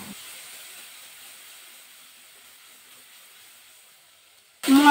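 Spice paste loosened in water goes into hot oil with lightly fried cumin and dried red chillies for a pointed gourd curry, giving a steady hiss that slowly fades before a sudden loud burst right at the end.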